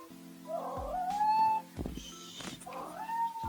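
A domestic cat meows several times in a row, close and fairly loud, with drawn-out rising and falling cries and a short pause between calls, with no talking over them.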